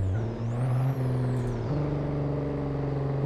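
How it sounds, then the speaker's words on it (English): A loud Ford Mustang's engine drones in an Assetto Corsa racing game, a sustained tone that shifts pitch with a brief sweep early on, then holds a steady, close roar. "I hear a Mustang behind me. God damn, that car's loud."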